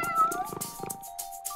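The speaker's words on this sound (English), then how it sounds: "A creeping cat?" A cartoon cat gives a drawn-out, wavering meow, close and fairly loud, with light rhythmic pattering behind it and no speech.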